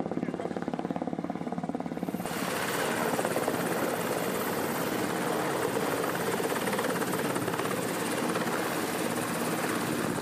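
Seahawk naval helicopter flying near a ship with a flight deck, a steady loud rotor and turbine roar that swells in after about two seconds and then holds continuously.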